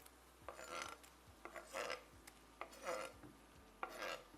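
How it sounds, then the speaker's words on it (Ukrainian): Chicken fillet pieces stirred in a frying pan, with several short scraping and clattering bursts of utensil against pan at an uneven rhythm over a faint background, close and moderately quiet. "Добре все перемішуємо та обсмажуємо 3-4 хвилини."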